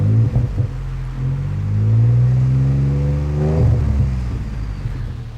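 A 2013 Ford F-150 EcoBoost fitted with a Diamond Eye cat-back exhaust revs up from a deep idle, the loud low-pitched engine note climbing and falling twice, close by with no talk.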